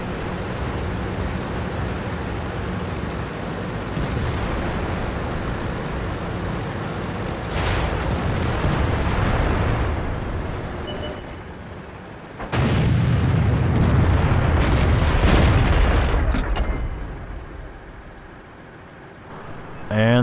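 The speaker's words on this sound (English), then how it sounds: "There's some artillery." Artillery fire in the World of Tanks game, with heavy booming bursts around the middle and a loud blast about two-thirds through, set over a constant dense rumble of battle noise.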